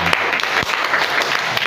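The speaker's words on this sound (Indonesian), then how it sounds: "Maka dari itu kita tepuk tangan dulu untuk Bank Sampah Mawar" An audience claps for the Bank Sampah Mawar waste bank at a community event, a moderate, fairly close burst of scattered hand claps with individual claps standing out.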